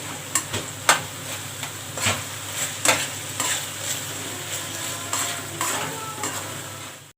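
Seasoned macaroni bechamel with ground black pepper is stirred in a pan, with repeated scraping strokes and soft clinks over a low sizzle, close and moderately loud.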